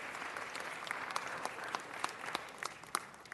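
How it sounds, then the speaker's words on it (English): A city council meeting audience gives a round of applause, a faint, distant spread of hand clapping with scattered sharper individual claps, steady throughout. "Let's give them a round of applause"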